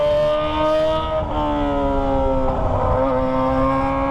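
A Kawasaki ZX25R with a Toce exhaust holds a loud, sustained, shrieking rev, close by. Its pitch dips slightly and then steadies, with no voices.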